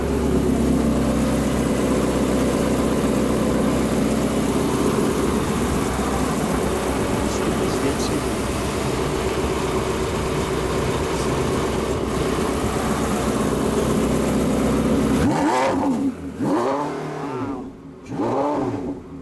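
A 2015 Porsche 918 Spyder Weissach Package hybrid supercar runs with a loud, steady engine note close by for most of the stretch, then gives a few sharp revs before dropping off, with no talking.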